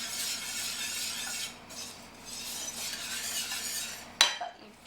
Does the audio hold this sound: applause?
no